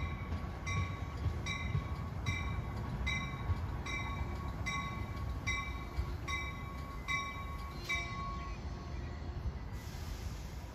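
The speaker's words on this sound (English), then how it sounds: "gaining on him during the station stop is Amtrak 42, the Pennsylvanian en route from Pittsburgh to New York" Amtrak 42, the Pennsylvanian passenger train from Pittsburgh to New York, passing at speed in Hamilton, New Jersey: a steady rumble with evenly spaced clicking of wheels over rail joints, which fades near the end.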